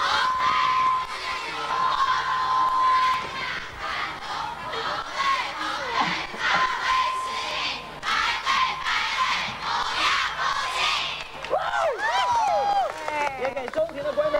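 A crowd cheers and shouts in a mall atrium during a 1994 variety show featuring Aaron Kwok, a loud sustained roar with rising whoops and screams, while a presenter talks over it.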